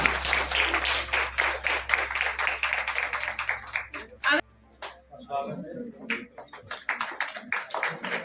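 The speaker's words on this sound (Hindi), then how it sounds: "जोरदार तालियां एवरीवन" A crowd at a women's day foundation stage programme applauds a gold medallist from Noida invited onstage. Sharp claps run under voices for about four seconds, break off briefly, then return more sparsely.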